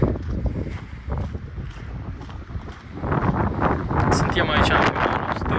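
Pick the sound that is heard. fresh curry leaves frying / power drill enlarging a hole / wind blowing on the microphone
wind blowing on the microphone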